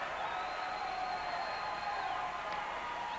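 An arena crowd at the 2003 NCAA men's gymnastics championships claps steadily and evenly for a gymnast's floor routine, a faint, distant wash of applause that holds throughout.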